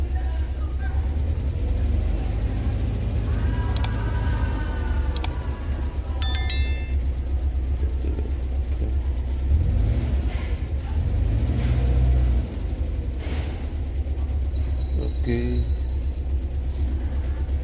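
A Suzuki Carry with a conventional TCI ignition and a new MOSFET fitted idles with a low, close rumble, then the throttle is pulled and the engine rises in a couple of revving surges before settling back to idle.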